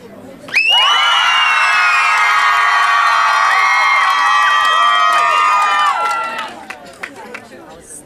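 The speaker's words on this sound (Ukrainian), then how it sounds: "Оплески ще раз Тетяні." Village karaoke crowd in Yavoriv erupting in loud applause, whoops and high-pitched cheering, with children shouting, sustained for several seconds before tapering off into scattered claps and murmurs.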